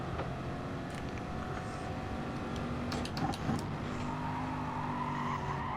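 A Corvette races around the Austria track in a racing video game, its engine droning steadily with a brief burst of tire squeal partway through.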